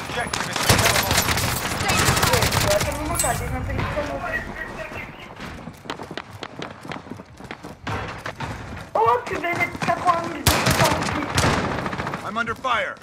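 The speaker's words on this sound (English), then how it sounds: "I'm under fire." Dense gunfire rages in the Call of Duty: Modern Warfare video game, with rapid machine-gun bursts and single shots layered over thuds and chaotic battle noise, loud and continuous throughout.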